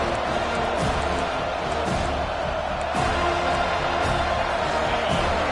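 A home stadium crowd in the College Football 25 video game roars steadily on a third-down defensive stand in a Florida State versus Georgia Tech matchup, a dense, continuous wash of cheering with occasional thumps throughout.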